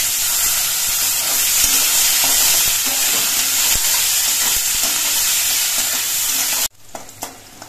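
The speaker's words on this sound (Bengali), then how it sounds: "এবার এর মধ্যে দিয়ে দিচ্ছি কোচানো পেঁয়াজ" Chopped onions hiss and crackle loudly in hot spiced oil with a constant sizzle, then the sound drops abruptly to a quieter background near the end.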